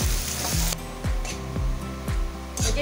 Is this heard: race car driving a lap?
no